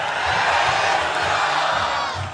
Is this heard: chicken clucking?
no